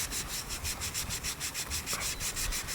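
A cloth scrubs dirt from the coated blade of a Schrade SCHF knife with a cleaner, a quiet, close rubbing with a quick back-and-forth rhythm of roughly fifteen strokes.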